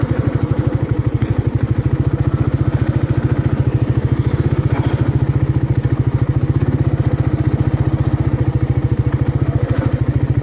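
A Suzuki motorcycle engine runs at steady high revs with a loud, even, rapid pulsing drone close to the microphone throughout, no voices over it.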